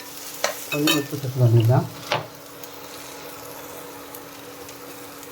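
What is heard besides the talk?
sautéing ingredients in a pan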